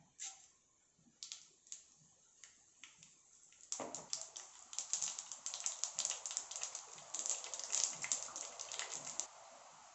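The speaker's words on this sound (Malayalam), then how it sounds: "കടുക് പൊട്ടി കഴിഞ്ഞിട്ടുണ്ട്" A quiet sizzle of hot oil gives way to a burst of rapid, sharp pops and crackles of mustard seeds spluttering that keep going densely until the end. No one speaks.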